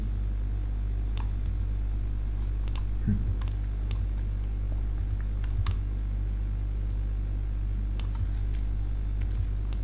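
Clicks from a computer mouse during 3D modeling work, scattered soft, sharp taps at an irregular pace over a steady low hum, close by and quiet, with no talking.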